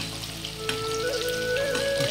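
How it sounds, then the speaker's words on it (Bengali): Chicken pakora frying in oil over medium heat, a steady close sizzle with a faint tonal hum running underneath, no talking. "সেই জন্য এটাকে আমি হালকা মিডিয়ামে ভেজে নেব।"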